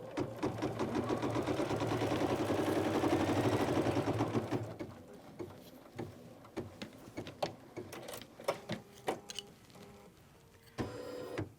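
An embroidery sewing machine stitches a winter snowflake quilt square in the hoop, running a dense, steady whir of rapid needle strokes for several seconds, then stopping into quieter clicks and scattered taps of the hoop repositioning.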